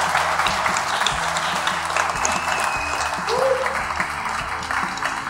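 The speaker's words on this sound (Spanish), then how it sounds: "De verdad, un aplauso para todas y todos ustedes." Lively applause from a youth audience at a Lucha Libre AAA Worldwide event in Mexico City rolls on steadily and loudly, with a voice briefly audible over it.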